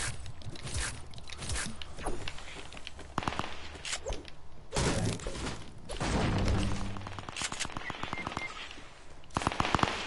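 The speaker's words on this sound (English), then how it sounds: "I got a pump and a Tommy gun." Tommy gun fire in a video game match, rapid bursts of automatic shots cutting in and out across the scene among other game noise and footsteps, no talking.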